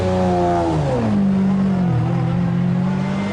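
A Ferrari Enzo or McLaren supercar engine revs hard and loud up close, its pitch climbing through the gears in a continuous, throaty roar with no voices.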